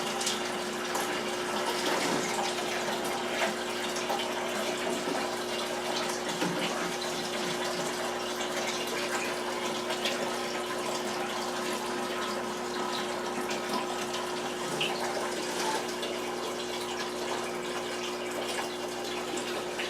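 Steady water running and gushing into a guppy aquarium during a water change in a male grow-out tank, a continuous, fairly loud pour with no talking.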